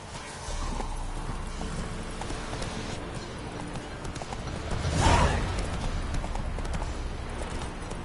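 Hooves of the horse Roach pound along steadily in The Witcher 3, a continuous galloping clip-clop with a rushing surge midway, with no voices.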